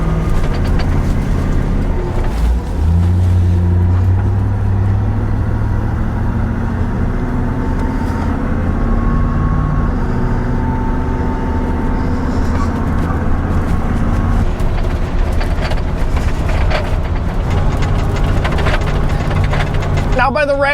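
An unfinished Land Rover on the move rumbles with low engine and road noise, shot through with clattering rattles and knocks from the bare body, while a person talks over it.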